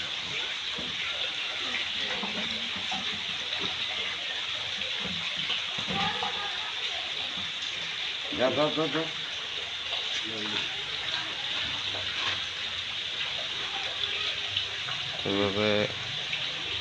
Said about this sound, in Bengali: তারপর একটা বালতিতে লবণের পানি নেবেন